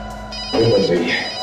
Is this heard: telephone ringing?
yes